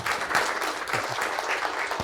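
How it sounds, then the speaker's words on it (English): An audience at a university machine learning talk claps steadily and densely for two seconds, a continuous wash of applause with no pauses. "can we have another round of applause for Dr."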